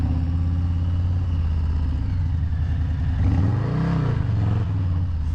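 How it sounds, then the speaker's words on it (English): A motorcycle engine runs steadily during a quick burnout in a grassy field, then revs up in one rising and falling swell before settling back to a constant drone. "doing a quick little burnout in the grass over there"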